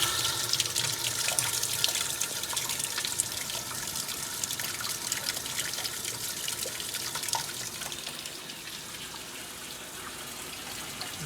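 Water streams steadily into a Maytag A482 or A408S washing machine during a wash race, a continuous broadband rush and hiss with faint trickling detail, holding even for the whole stretch with no talk.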